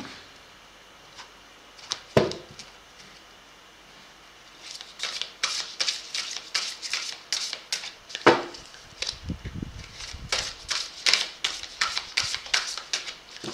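An oracle card deck is cut and shuffled by hand, with close, sharp card slaps and dense bursts of riffling, flicking clicks coming in irregular clusters, with no talking.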